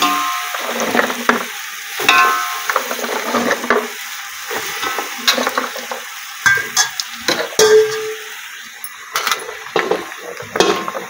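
Washed, cut jackfruit pieces being stirred and fried in a pan, giving loud, irregular bursts of scraping and clattering spatula strokes separated by brief quieter gaps, with a light sizzle underneath and no speech.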